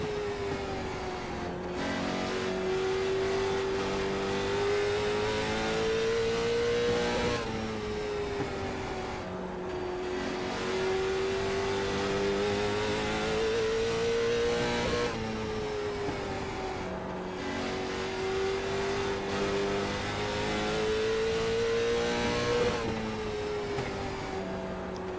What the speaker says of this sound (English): Speed 1 is the fastest car on the racetrack.